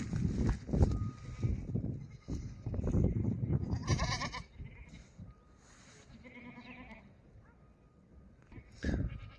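Sheep and goats bleat at a livestock market, several loud nearby calls in uneven bursts over a busy background of crowd murmur and shuffling hooves.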